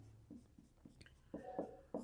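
Pen on paper while a maths solution is worked out by hand, faint short scratching strokes in an irregular rhythm, close and quiet with no talking.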